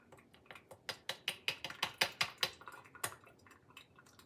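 Blackberry syrup drips through a small cup strainer in a quick run of crisp, close drips that speed up and then thin out, with no voices.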